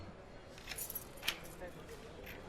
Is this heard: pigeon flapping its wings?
no